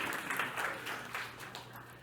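A conference audience in Quebec City claps in a short, moderate burst of applause, fairly distant and steady, fading slightly toward the end.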